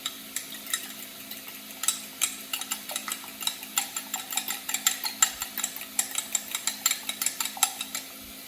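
Sugar and two eggs being mixed in a bowl, a quick rhythmic run of close clicking whisk strokes against the side, steady and fairly loud.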